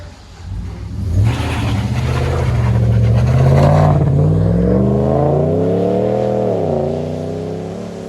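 A RAM 1500 pickup's 5.7 HEMI V8 revs up loudly through its aftermarket exhaust, a deep throaty rumble climbing in pitch over several seconds, then holding and wavering before easing down, close by with no talking.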